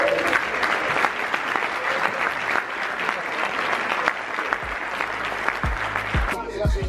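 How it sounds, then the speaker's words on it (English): An audience at a talk about networking as a creative gives a sustained, loud round of applause that carries on steadily, with a few voices mixed in as it begins to thin out near the end. "Please give a round of applause for you."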